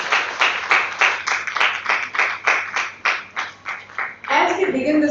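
A small audience claps at a mental health conference, the clapping coming in distinct rhythmic bursts that give way to a voice speaking at the end.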